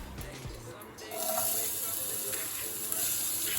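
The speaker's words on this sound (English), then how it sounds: "We're gonna add some onion, saute that up." Chopped onion sautéing in olive oil in a pan. A soft hiss rises after a brief pause and then holds steady and quiet.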